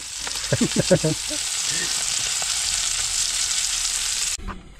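Cooking oil sizzles and fries steadily at close range, a dense hiss that runs without a break and then cuts off near the end. A voice speaks briefly near the start.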